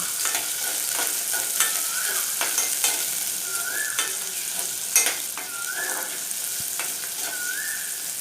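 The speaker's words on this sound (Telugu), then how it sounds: "రెండు పచ్చిమిర్చి కూడా ముక్కలుగా చేసుకుని పోపులో వేసుకుని వేయించుకోవాలి" Chopped green chillies and onion frying in hot tempering oil for dosakaya dal, a close, steady sizzle broken by repeated scrapes and clinks of a stirring spoon against the pan.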